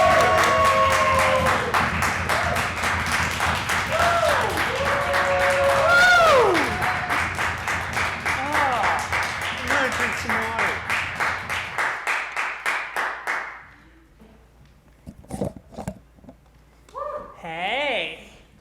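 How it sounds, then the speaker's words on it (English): Warm audience applause with cheering at a comedy show greets a comedian, loud and sustained, then thins to scattered claps and fades as a voice begins speaking near the end. "Like very, very warm applause."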